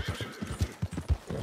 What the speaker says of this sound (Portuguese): Sai, cavalo, sai daqui.